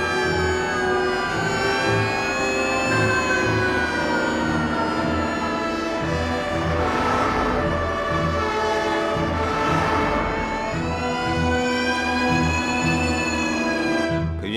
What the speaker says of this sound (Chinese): 消防车、救护车全出动了